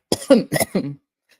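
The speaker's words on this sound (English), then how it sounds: "The peanuts always make me cough." Several coughs from one person in a quick cluster, near and fairly loud, set off by eating peanuts, ending with a short throaty trailing cough before silence.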